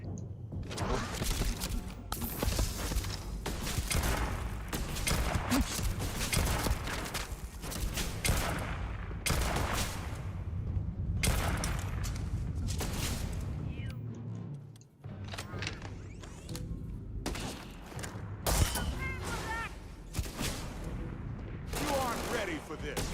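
Gunfire in the video game Starfield, with many sharp, loud shots fired in rapid irregular bursts, some clustered in quick volleys and others spaced apart, alongside intermittent talking.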